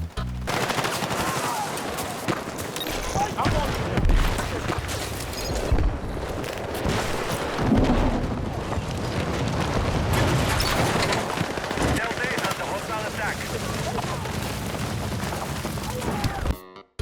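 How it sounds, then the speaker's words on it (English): Dense, continuous gunfire and heavy booming airstrikes in the video game Battlefield 6 roll on without pause, echoing with a thick rumbling background throughout. "The gunshots echo across the map, airstrikes echo across the map"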